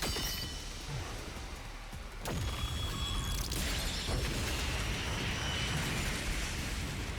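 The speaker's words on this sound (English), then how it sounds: "That's a nice explosion." Explosion in the video game Master Detective Archives: Rain Code, a loud, sustained rumbling blast with a sharp crack partway through, continuing as a dense roar.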